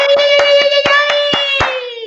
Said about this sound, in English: Let's give me some claps.